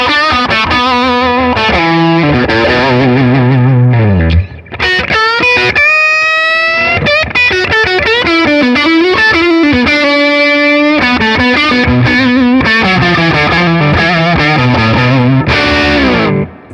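Fender Stratocaster American Professional HSS electric guitar with a humbucker, played loud through distortion and effects, with chords and sliding melodic lines and one short gap near the start, no talking.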